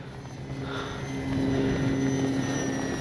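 FMS PC-21 Pilatus RC plane flying in gusty wind, a steady electric whine from a distance with a tone that shifts and grows slightly louder as it passes, wind noise underneath and no talk.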